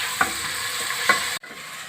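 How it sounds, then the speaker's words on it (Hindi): Sliced onions fry in a pan for a restaurant-style mutton boti masala, a steady sizzle broken by two distinct scraping stirs of a spoon before the sound abruptly cuts, with no voices. "प्याज बस हमने इसको इतना ही फ्राई करना है"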